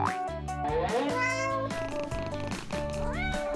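A cartoon cat meows in a string of drawn-out, wavering, exaggerated cries, loud and close, with rising and falling pitch over a few seconds.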